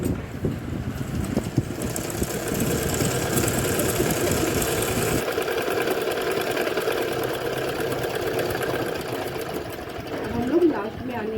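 Sewing machine stitching a baby's cloth nappy: a steady, close mechanical whir and needle chatter running continuously, changing pace partway through as the stitching is locked back and forth, with someone talking over it.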